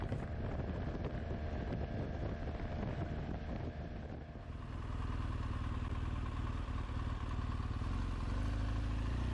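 A BMW R motorcycle rumbles steadily on dirt roads near the Salton Sea, its engine droning loud and close under wind buffeting and loose clatter, with the tone shifting deeper midway as the ride continues.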